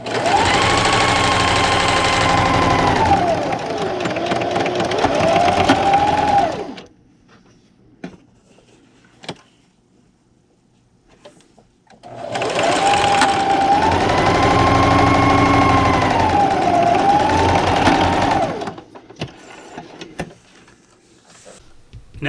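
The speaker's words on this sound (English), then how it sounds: "I'm going to move my needle over to the right and back stitch, and then just keep sewing." A sewing machine stitches fabric for reusable Easter eggs in two long, loud bursts of rapid mechanical whirring, each about six seconds, separated by a quiet pause with a few small clicks.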